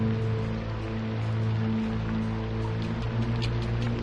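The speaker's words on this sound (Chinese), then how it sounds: "下雨了。" Rain begins falling on an outdoor scene, a steady, even hiss of drops spread across the surface with scattered sharper patters, under a low sustained tonal hum.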